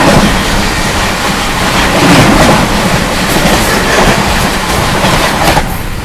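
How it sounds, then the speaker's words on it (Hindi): The Islampur–New Delhi Magadh Express rushes past close by, a loud, continuous roar of wheels and carriages with a faint rhythmic clatter that holds steady before easing slightly at the end. "इस्लामपुर से चलकर नई दिल्ली की ओर जाने वाली इस्लामपुर नई दिल्ली मगध एक्सप्रेस।"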